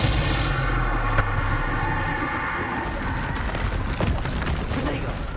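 A Bombarda spell explosion in Hogwarts Legacy booms amid a dense, loud wash of game combat noise, with rumbling blasts and crackling impacts throughout.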